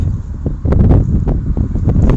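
Wind blowing across a farm, loud gusting rumble buffeting the microphone with rustling plants swaying in bursts, no talk.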